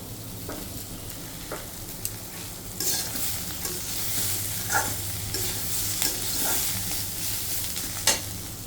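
Sliced bitter gourd (karela) fries in hot oil in a home kitchen, a steady close sizzle with scattered crackles and a few spoon-against-pan clinks, no talking.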